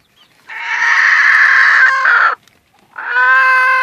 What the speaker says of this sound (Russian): У нас курица села на яйца.